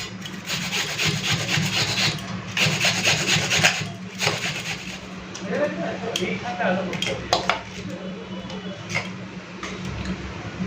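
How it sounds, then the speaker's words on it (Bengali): An onion is grated by hand on a grater in a home kitchen while doi katla fish curry is being made: close, steady rasping strokes in an uneven rhythm, with soft clinks in between. "এখন পেঁয়াজটাকে ঘষে নিচ্ছি এটা দিয়ে"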